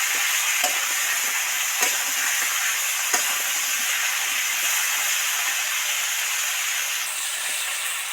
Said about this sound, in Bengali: তাড়াতাড়ি যাতে আলুগুলো ভাজা হয়ে যায়